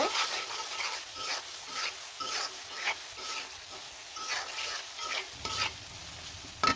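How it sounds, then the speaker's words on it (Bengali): Steady sizzling of tomatoes frying in a pan with salt, chili, turmeric and coriander powder, with repeated scraping stirring strokes close up and no talk. "দিয়ে ভালো করে লাড়াচাড়া দিয়ে কিন্তু এটা আমি কষিয়ে নিব"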